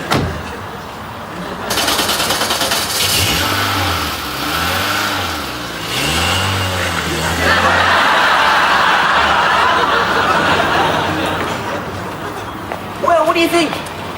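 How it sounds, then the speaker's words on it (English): A moped engine revs and runs close by in a sitcom scene, rising to a steady buzzing drone through the second half, with laughter and speech over it. "It's a moped."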